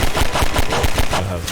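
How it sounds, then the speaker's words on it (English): A grenade blast and gunfire in the video game Half-Life 2, loud rapid bursts repeating throughout the short moment, dense and close. "Oh, that was a grenade."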